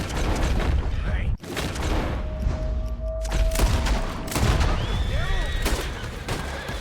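Gunfire in a video game cracks out in several sharp, loud shots amid busy game noise, with overlapping in-game voices and effects.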